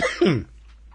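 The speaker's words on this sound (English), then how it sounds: "Now I'm making myself cough." A short burst of harsh coughing close by, then quiet.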